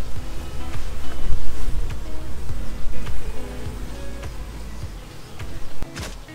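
Honeybees in an indoor four-frame observation beehive produce a steady, close, droning buzz, with occasional louder passes and light knocks over the hum.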